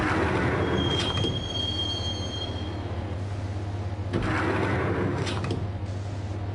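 Train ride in the Max Payne video game, with a steady rumbling roll of rail cars, a thin high wheel squeal early on and clattering bursts of track noise, loud and continuous, no talk.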